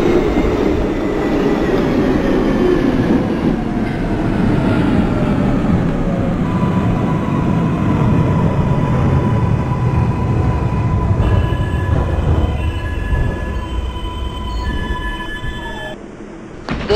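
A simulated R142A 6 train on the New York subway runs steadily, with rumbling wheels, clacking rail joints and a faint rising motor whine, close and continuous throughout.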